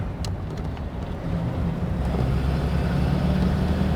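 A 1934 Packard drives along in second gear, its low engine drone and road rumble building slightly and holding steady, with some wind noise across the microphone and no talking.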